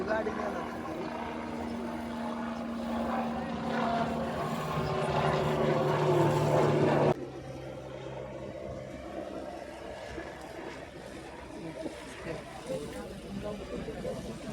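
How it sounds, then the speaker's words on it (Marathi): A helicopter arriving near Baramati, its low rotor and engine drone steady under people talking, then dropping away sharply halfway and staying faint. "हेलिकॉप्टर एक आले बघा"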